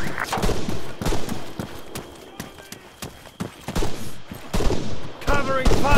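Heavy gunfire in the Arma 3 military shooter, with loud rapid bursts and single shots cracking throughout amid battlefield chaos and shouted voices.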